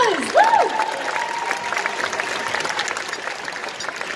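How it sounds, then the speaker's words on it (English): Live audience at a charity dance competition gives a round of applause, a dense patter of clapping with a few cheers and a whistle at the start, holding steady throughout. "Let's give them another round of applause."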